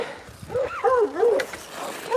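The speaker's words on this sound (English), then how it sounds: "Now hopefully these dogs stop barking." Farm dogs just let out on a cold day give a short whining, yelping bark sequence, fairly close and moderately loud, with little else around.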